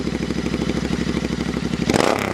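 A Royal Enfield 650 twin running through an aftermarket megaphone exhaust with no baffles gives a loud, pulsing, raspy burble close by, then swells into a short rev near the end.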